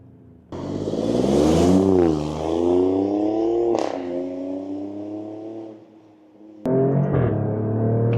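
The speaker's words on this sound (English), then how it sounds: "There's a nice little crackle from the exhaust every time you change gear." An Alfa Romeo Stelvio Quadrifoglio, driven in race mode on a damp, frosty day, revs hard through its gears. The engine note climbs and drops with each shift, and brief exhaust crackles and pops fall on the gear changes, loud and close.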